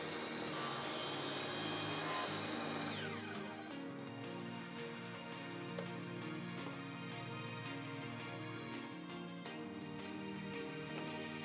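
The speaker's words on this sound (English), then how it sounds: "With a stop block set up, I can cut out several pieces of PVC all the exact same size." PVC pipe cut against a stop block for a spool holder: loud, continuous rasping saw strokes at first, then a steady mechanical drone with humming tones for the rest, close and with no speech.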